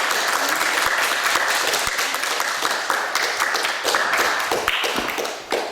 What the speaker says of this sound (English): Also dann einfach ein großes Applaudissement.